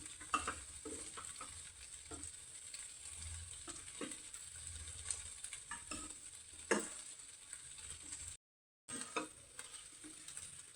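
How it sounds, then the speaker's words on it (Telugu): Fried drumstick pieces stirred into masala in a pan, with a soft continuous sizzle and repeated scraping spoon strokes against the pan, close up and alone, briefly cut to silence near the end. "ఈ మసాలాతో ఈ మునక్కాయలు పట్టే విధంగా కలుపుకున్నాం"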